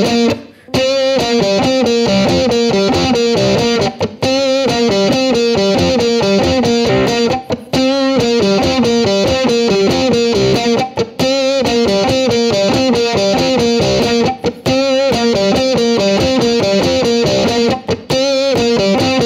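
An electric ukulele plays a fast rock riff through heavy, fizzy distortion. It is loud and continuous, with rhythmic repeating phrases and short breaks between them, and no voice is heard.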